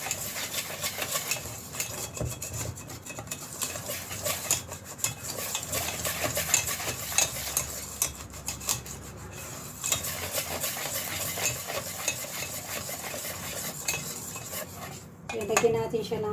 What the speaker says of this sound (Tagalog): tapos mix muna natin siya